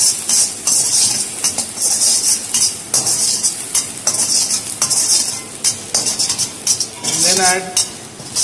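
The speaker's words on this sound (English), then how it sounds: "Fry the garlic." Garlic fries in sesame seed oil in a wok, a loud, close, continuous sizzle broken by repeated scraping and clanking of a metal utensil against the pan, with faint voices in the background.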